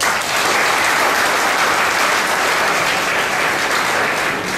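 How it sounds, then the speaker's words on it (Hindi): Loud, dense audience applause at a blood donation awareness camp, a continuous wash of clapping hands sustained throughout without pause. "उसके लिए जोरदार ताली।"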